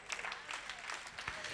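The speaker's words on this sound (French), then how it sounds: "Applaudissez Jésus-Christ." Church congregation applauding during a sermon, a dense, steady patter of clapping hands from a crowd sustained throughout at a moderate level.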